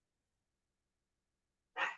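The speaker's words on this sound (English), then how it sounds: "I know y'all hear my puppy barking." A puppy barking at dogs next door, one short single bark right at the end after near silence, close and clear.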